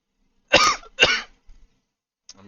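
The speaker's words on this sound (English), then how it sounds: "I'm coughing." Two sharp coughs in quick succession, close by, followed by a faint throat sound after a pause.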